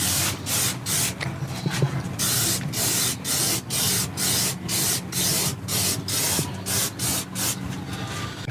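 Wax oil sprayed onto a car subframe in short rhythmic hissing bursts, about fifteen evenly spaced pulses up close, with faint clicks between.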